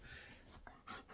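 A dog just back from doggy daycare pants in rapid breathy bursts, with a couple of short, high whimpers near the end, close by and moderately loud indoors.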